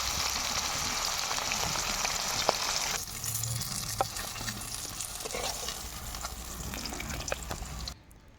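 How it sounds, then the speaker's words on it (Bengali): Pieces of rohu fish fry in hot oil until reddish, giving a steady broad sizzle with crackling pops that runs throughout and drops off abruptly at the very end. "মাছগুলো আমি লাল লাল করে ভেজে নেব।"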